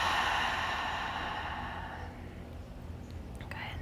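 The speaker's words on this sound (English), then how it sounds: "Big exhale." A long, heavy exhale during a yoga breathing exercise, a steady breathy rush of air that fades gradually over a few seconds, close and fairly loud, with nothing else heard.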